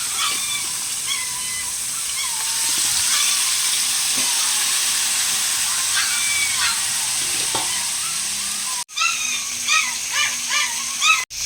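Fish frying in a pan on a home stove, with a loud, close, continuous sizzle and scattered crackling pops. Near the end the sound briefly cuts out and resumes with bursts of spatter.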